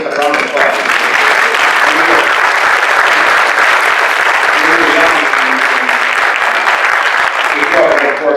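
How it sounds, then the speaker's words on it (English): An audience at a humanities lecture hall gives a loud, dense round of sustained applause that stays at full strength the whole time. "And just a round of applause."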